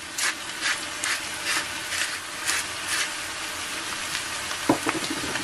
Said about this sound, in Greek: Ανακατεύουμε λίγο και τα αφήνουμε για 5-6 λεπτά να σοταριστούν καλά